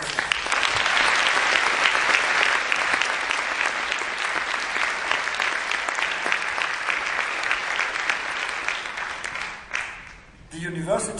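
Loud, sustained audience applause at a ceremony fills about ten seconds with dense, continuous clapping, then fades abruptly at the end.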